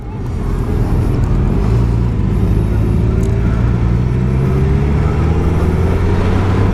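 A Suzuki GSX-S1000 GT motorcycle ridden on the road: a loud, steady engine drone with a slowly rising tone that holds for the whole stretch, with no voices.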